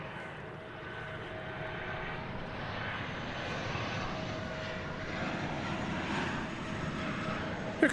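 Passenger airliner arriving on flight 2181 from Silao, Mexico, at DFW Airport, a distant steady engine rumble and whine that swells gently over several seconds, fairly faint and continuous.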